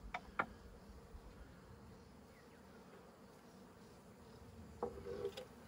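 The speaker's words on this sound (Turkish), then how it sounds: "Bir tane arı var içeride." Honeybees buzzing during a hive inspection at honey harvest time, a steady close drone under the handling noises, with a few sharper knocks and clicks from the hive frames.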